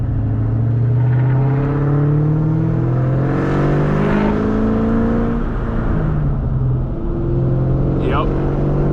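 A 2003 Cobra's engine roars loud and close through repeated hard pulls at night, its deep growl climbing in pitch as the revs rise, then briefly easing before building again.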